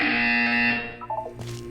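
A harsh, steady electronic buzzer in the video game Portal 2 sounds loudly for nearly a second, then cuts off into a few faint, softer tones.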